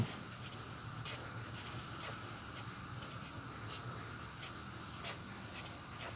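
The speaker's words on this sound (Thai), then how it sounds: "เราจะเขียนตัวนี้ใส่" A pen scratches out a math equation on paper, a faint, steady run of soft strokes with brief taps spaced through a quiet room.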